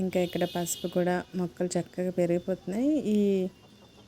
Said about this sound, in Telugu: నేను హార్వెస్ట్ చేసినంతసేపు మీకు కోడి కూత వినిపిస్తుంది కదా